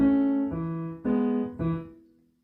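A two-handed blues groove plays a riff as four clean, sustained chord strikes in an even rhythm, ringing out and fading at the end with no talking.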